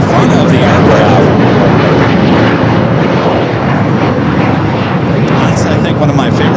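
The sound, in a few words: aircraft at Los Angeles airport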